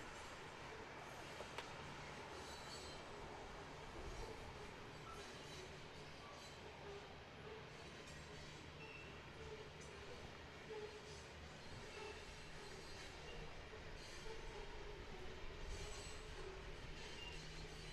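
A train rumbles steadily past a lawn bowls green during a 2018 singles match, its broad continuous roar holding at a moderate level for the whole stretch without pause.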